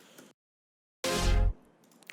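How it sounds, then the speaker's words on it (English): One loud synth stab hit from the Overdrive sample pack, a short, bright, full chord burst of about half a second that cuts off sharply, with quiet background before and after. "another important element of the track is the hits,"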